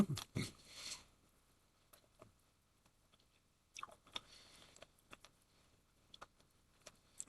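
A person chews a sugar-coated durian candy up close: wet, sticky mouth sounds and irregular bites, loud at the start and then softer, scattered chewing clicks with no talking.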